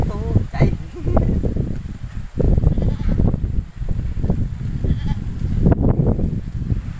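Goats bleat repeatedly on a farm while people talk loudly over and between the calls, with a rustle of leaves in the background.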